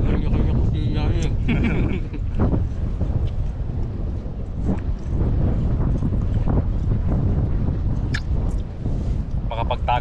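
Strong wind buffeting a microphone outdoors near a grilling spot, rumbling low gusts that swell and ease without pause, with people talking intermittently over the roar.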